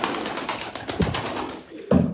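At a live game-pigeon auction in Ankara, a brief stretch of pigeon sounds comes through close by, with short coos and soft flutters over a noisy background.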